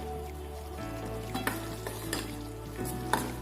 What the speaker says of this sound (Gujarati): તો સરસ મજાનો આપણો રવો છે તે શેકાઈ રહ્યો છે